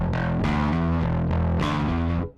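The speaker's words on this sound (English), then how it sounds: "So that's as much distortion as I'm going to get with the pedal set the way it is." A bass guitar plays through an Ampeg Scrambler overdrive pedal with the drive fully up, giving a loud, heavily distorted, gritty tone across several sustained notes before cutting off.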